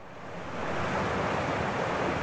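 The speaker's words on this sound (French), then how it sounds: "je retrouve mon joli petit ruisseau" A small stream winds down through a valley, its steady broadband rush of flowing water loud and continuous, swelling slightly at the start and then holding even with no voices.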